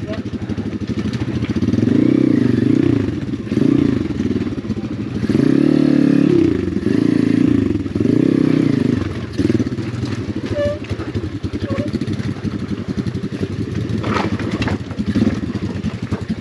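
A $1000 Amazon dirt bike's engine drones loudly and close on a rocky offroad trail, surging and easing in repeated throttle bursts with clattering over rough ground, and a voice briefly speaks.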